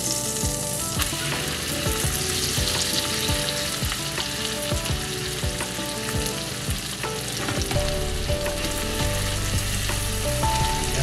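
Pork sisig meat fries loudly in melted butter in a pan, a dense continuous sizzle with crackling pops and repeated scraping stirs of a utensil, close and without speech.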